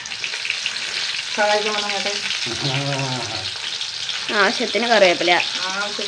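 Garlic, shallots and dried red chillies sizzle steadily in a hot pan, a dense crackling hiss running throughout while a voice speaks intermittently over it.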